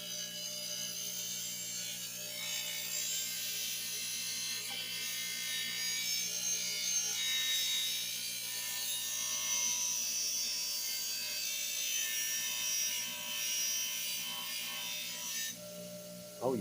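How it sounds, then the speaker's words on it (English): A steady, high grinding whine runs continuously, a grinder sharpening a lawnmower blade with a harsh metal rasp, ending with a short clunk. "I think I'm gonna go ahead and use the grinder."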